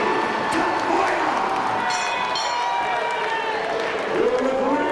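An arena crowd at an amateur MMA event, the Elite Amateur Fight League, applauds and cheers a fighter's ring introduction. The applause and crowd noise are loud and sustained, a dense wash lasting the whole time.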